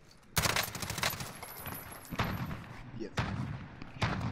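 Automatic gunfire in Call of Duty Warzone, several loud close bursts of rapid shots separated by short gaps, with a brief spoken word near the start.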